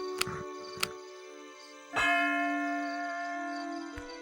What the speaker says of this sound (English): There, I've rung the warning bell.